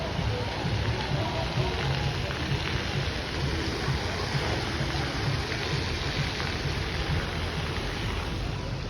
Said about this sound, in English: splash zone and waterworks